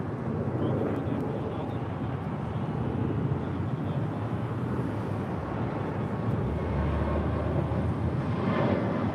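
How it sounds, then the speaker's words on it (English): An Air Canada Airbus A220 jet departing LAX for Montreal, heard as a steady, distant low roar with a broad rumble that swells slightly near the end, no talking. "That is Air Canada 778 departing to Montreal on an A220"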